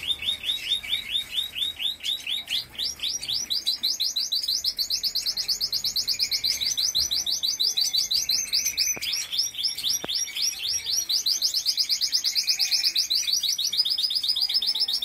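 Several small caged songbirds sing loudly and continuously, overlapping trills and rapid chirps filling the air with no pauses, close by.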